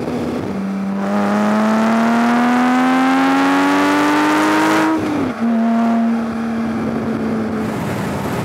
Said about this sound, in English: But this engine sounds so exotic when you rev it out.